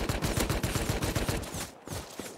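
AK rifle fire in a video game, a rapid close string of loud rattling shots that stops briefly and then resumes.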